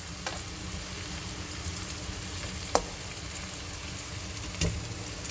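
Tomato chutney ingredients, tomatoes with turmeric powder, frying in a pan, a soft continuous sizzle with a few faint scraping stirs, no talking.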